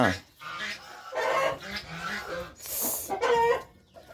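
A rooster crows and clucks at close range, loud squawking bursts separated by short pauses, with voices talking nearby.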